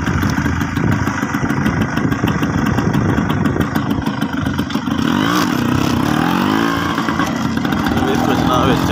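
A tractor engine runs in a rural desert farming area of Punjab, Pakistan, a steady chugging mid-pitched drone with clattering, close and continuous, under a voice talking over it.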